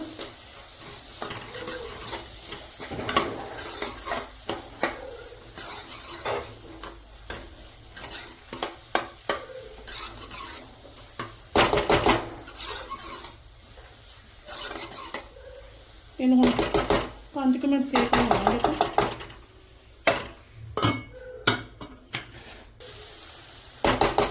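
A spice masala of turmeric, green chilli and red chilli is stirred in a pan for crispy bitter gourd, with repeated scraping and clinking strokes of a spoon against metal over a soft sizzle and no voices.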